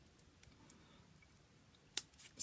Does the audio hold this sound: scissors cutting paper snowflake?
yes